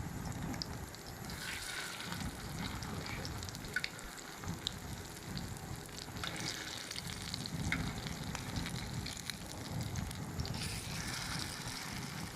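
Kebabs frying in a pan give a steady, continuous sizzle and crackle, close and even throughout with no pauses, no talk.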